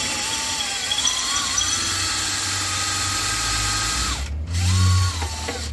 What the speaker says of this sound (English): I'm starting off with a shorter drill of the same diameter